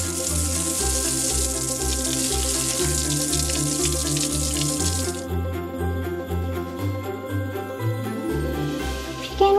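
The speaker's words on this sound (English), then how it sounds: "Let's wash your hands." Tap water runs into a sink during handwashing in a toy-play scene, a steady hiss under pulsing background music that drops partway through; no one talks.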